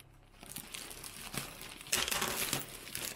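Scissors snip and slide through a crinkly plastic mailer package, with rustling and crinkling bursts building toward a louder tearing rip near the end, close and alone.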